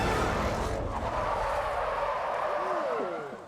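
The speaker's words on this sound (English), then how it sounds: "Short shifting into third." A car in The Grand Tour drives hard, its engine straining loud and continuous while short shifting into third gear, with rising and falling pitch sweeps near the end.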